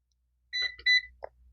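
A multimeter set to continuity buzzer mode, probing a diode in an LED TV's backlight section, gives a few short electronic beeps, close and clear, with near silence around them.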